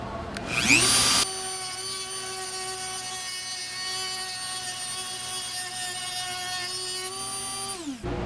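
A Dremel rotary tool deburring cut metal stock spins up with a loud burst, then holds a steady, high, thin whine for several seconds before winding down.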